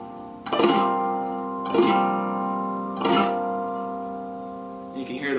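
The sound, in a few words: guitar chord played in artificial harmonics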